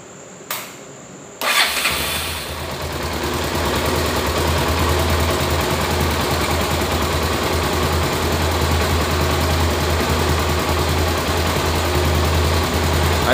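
A motorcycle engine with a charging fault, not charging the battery, cranks and starts after a brief click, then settles into a steady, loud, close idle that runs continuously.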